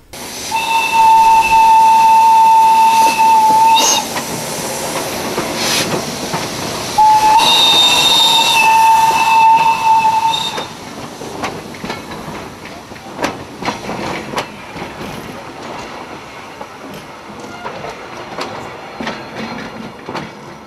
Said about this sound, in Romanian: Zeci de curioși au venit să vadă la Petroșan trenul regal.